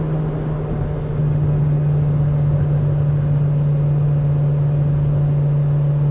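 Inside a moving 2000 Honda Civic Si with a JDM ITR B18C engine swap, a loud, steady engine drone and road rumble hold at a constant pitch throughout with no distinct rise in revs.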